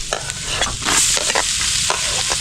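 Garlic sautés in a pan with a loud, close sizzle, broken by repeated scraping stirs over a steady frying hiss.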